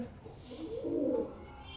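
A pigeon coos softly nearby, a single low throaty call rising and fading over quiet background noise.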